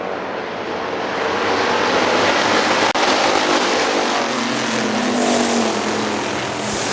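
Factory stock race cars roar around Hartford Speedway in a steady, loud wash of engine noise, with a pack passing close and a brief sharp crack near the middle.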